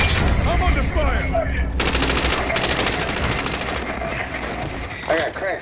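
Rapid automatic gunfire in the video game Warzone rattles in loud sustained bursts, with scattered single shots around them and a voice talking over the shooting.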